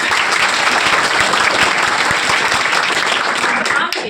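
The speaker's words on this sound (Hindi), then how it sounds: "एक बार इनकी मुस्कान के लिए तालियां" Dense, steady applause from a large audience at a felicitation event for top students, loud and continuous throughout, tapering slightly at the very end.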